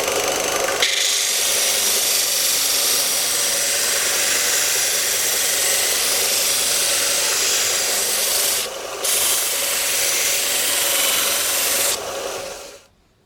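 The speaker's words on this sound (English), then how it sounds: "I'm gonna show you how fast it will sand with this 18mm plywood." An Einhell TC-US 400 bench sander grinds into 18mm plywood with a loud, continuous abrasive rasp over the motor hum, briefly easing once before the machine spins down at the end.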